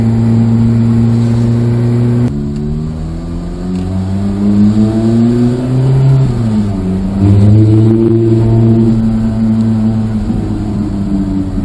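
A Ferrari F430 Spider's engine revving out on the road, a loud resonant growl rising and falling through repeated throttle blips and gear changes, close and unaccompanied by speech.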